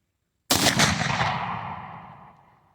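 A single sharp rifle shot from a 7 TCU firing cast bullets outdoors, close and loud, then a long echoing decay across open ground.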